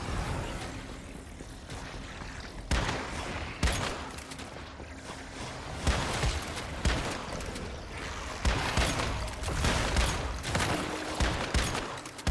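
Shotgun blasts ring out in a video game, loud repeated bursts every second or so over a steady backdrop of game ambience and effects, with no talking.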